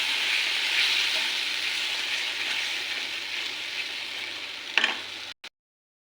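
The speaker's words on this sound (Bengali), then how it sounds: "দই আর কাজু বাটা দিয়ে ভালো করে কষিয়ে নেব।" Yogurt and cashew paste with spices sauté in a pan for capsicum paneer sabji, a continuous close hissing sizzle with a low steady hum beneath and a couple of stirring knocks before it cuts off abruptly.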